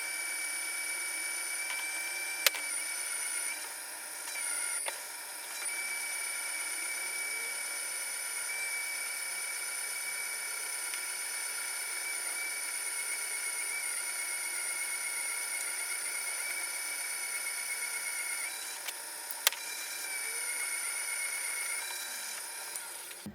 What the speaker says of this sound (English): That 4-lip drill is running beautifully.